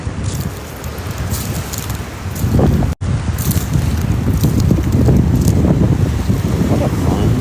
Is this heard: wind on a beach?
yes